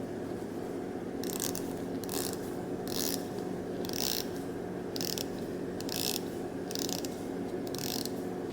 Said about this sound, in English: The 120 click rotating bezel operates smoothly and it doesn't sound too ratchety.